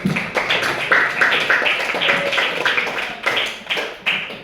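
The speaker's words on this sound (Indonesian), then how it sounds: "berikan aplaus untuk Nabila" A small group in a classroom applauds a student, giving a close, loud round of quick, uneven hand claps that runs steadily for several seconds with slight pulsing.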